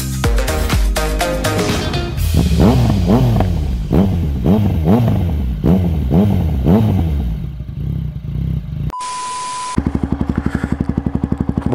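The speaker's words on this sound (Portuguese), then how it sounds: "a moto agora é a famosa CRF 250F" A Honda CRF 250F off-road motorcycle engine revs up repeatedly in rising bursts, loud and close, then settles into a choppy idle after a brief electronic beep.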